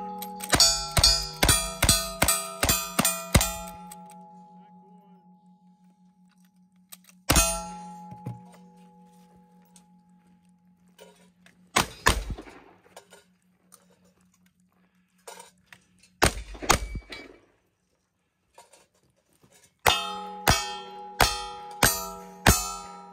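At a cowboy action shooting stage, rapid gunshots ring off steel targets with sharp clangs. A dense string of shots opens the stage, then isolated shots come after pauses, and a final fast string closes it.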